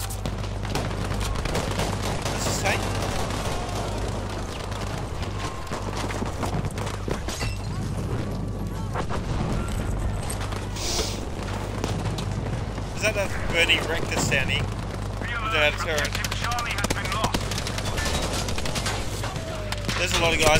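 Sustained machine-gun fire from an MG42 in the WWII shooter Battlefield V, mixed with explosions and battlefield noise, running dense and continuous for the whole stretch with players talking over it.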